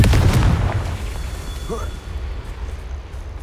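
Confringo fire spell blasts in Hogwarts Legacy: a loud booming burst at the start that rolls off into a low rumbling tail, with a shouted voice over it and a fainter crackle after.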